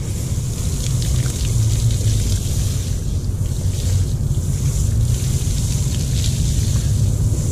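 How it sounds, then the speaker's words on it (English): Water sprays steadily from a hose to wash down a car tire, a loud continuous hiss and splatter close to the microphone for several seconds, with no talk over it. "wash down the tire."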